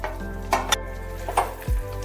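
Fried cauliflower pieces are tipped into a pan of cooked-down spices and sizzle steadily, with a few light clinks of a utensil against the pan over the hiss.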